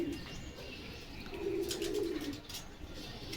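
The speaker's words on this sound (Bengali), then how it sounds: "পিওর জোড়া কবুতর, সমস্যা নাই।" Pigeons coo in a low, soft rolling call that swells in the middle of the clip. The birds are a silver pair held close by at a pigeon seller's loft, with faint chirps and rustling around them.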